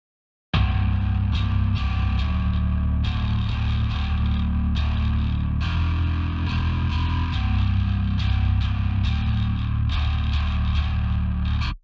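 A bass guitar plays a riff through the Laney Digbeth amp plugin with EQ, giving a thick, distorted tone of repeated loud, sustained notes with sharp attacks, alone with no talking.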